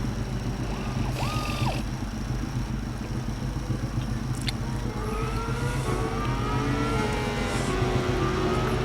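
Racing motorcycles roar past on track at Donington in Ride 5, a steady loud engine drone with rising and falling whines as several bikes sweep by one after another, nearby and continuous.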